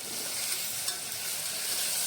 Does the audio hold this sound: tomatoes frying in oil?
yes